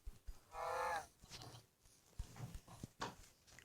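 A cow mooing in the Minecraft video game, one loud drawn-out low moo followed by scattered game clicks and thuds.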